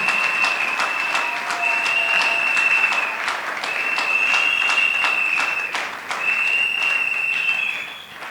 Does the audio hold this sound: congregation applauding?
yes